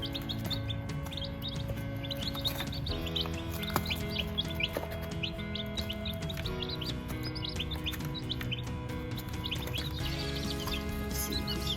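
Baby chicks chirping at a feeder, with steady overlapping high peeps and tweets running throughout at moderate volume, close by and busy, with no talking.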